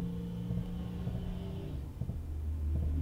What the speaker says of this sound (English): It's a normal car driving by